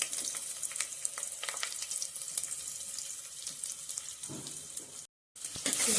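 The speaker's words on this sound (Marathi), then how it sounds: "कांदे आपण भाजून घ्यायचे." Onion, garlic and tomato paste frying in a pan, a continuous loud hiss and sizzle with scattered crackles and stirring clicks, briefly cutting out near the end before resuming.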